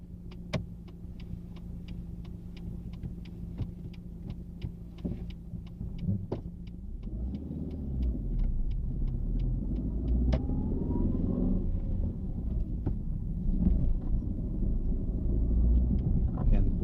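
Interior of a car on a driving lesson mock test, a steady engine rumble with regular indicator-like ticks early on, then the drone swells as it pulls away and gathers speed.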